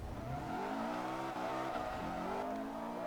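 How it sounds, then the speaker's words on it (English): A drifting car in Forza Motorsport 3 revs hard with a supercharger whine over the engine, pitch sweeping up and down through sustained tire noise, loud and continuous with no talk. "You can hear the whine of my supercharger there."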